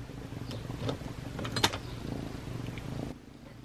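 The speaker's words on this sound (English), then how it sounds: "Hear that purr?" A cat purring up close while playing with a toy, a soft steady rumble under faint handling noises and occasional clicks, fading out near the end.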